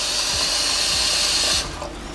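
Water streams steadily into a pot of gungo (pigeon) peas for Jamaican rice and peas, a bright continuous hiss that cuts off abruptly near the end, leaving faint room noise.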